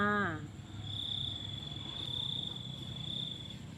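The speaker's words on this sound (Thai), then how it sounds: "มาฟังเสียงจิ้งหรีดนะคะ" Crickets chirp at night in a steady, high, thin trill that carries on continuously, fairly faint, after a brief voice at the start.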